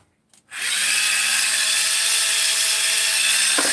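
A Dremel rotary tool fitted with a stainless steel wire wheel spins up abruptly after a couple of faint clicks, then whines at a steady high pitch, close and loud, until it begins to wind down at the end.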